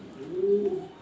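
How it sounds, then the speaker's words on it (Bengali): A black exhibition pigeon coos once, a low rolling call swelling in the middle of the second, close and clear against quiet surroundings. "black colour top quality black exhibition"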